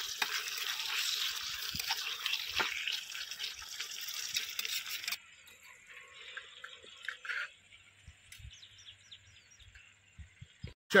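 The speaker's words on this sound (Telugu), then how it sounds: "లివర్ అయితే కొంచెం ఫ్రై అయింది ఆయిల్లో మంచిగా" Chicken liver deep frying in oil on a farm, giving a close, busy sizzle and bubbling for several seconds that then drops to quieter crackles and light stirring sounds.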